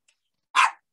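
A single sharp dog bark rings out nearby, brief and fairly loud, following a moment of near silence outdoors in a garden of native plants.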